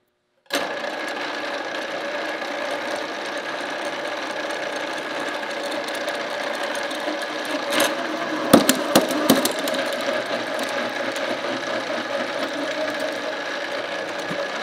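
An old mill head converted into a tapping station runs a 3/8-16 tap into 3/8 steel plate at 240 RPM. A steady motor hum and whine plays throughout, with a few sharp clunks and rattles near the middle.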